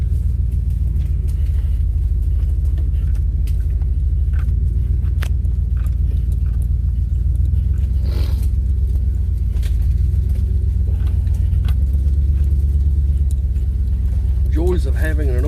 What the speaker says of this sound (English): Joys of having an old beat-up farm truck.